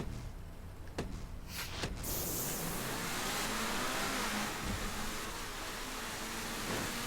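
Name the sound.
Infernus car engine accelerating at race start, GTA 5 video game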